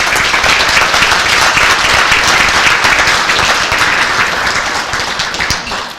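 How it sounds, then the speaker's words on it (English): A large banquet audience at a village senior-center event claps in a dense, loud, sustained round of applause that holds steady for several seconds before beginning to taper off at the end. "Please give those people a round of applause"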